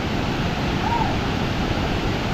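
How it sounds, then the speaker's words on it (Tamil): Heavy water at Hogenakkal falls crashes down in a steady, broad rushing roar, loud and unbroken for a brief moment with no voices. "செம்மையாக கொட்டிகிட்டு இருக்குது ஃபால்ஸ். செம்ம ஹெவியான ஃபால்ஸ்."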